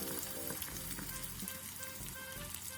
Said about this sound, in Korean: 두부가 반 정도 잠길 정도의 기름만 부어 중불에서 노릇하게 튀겨준 뒤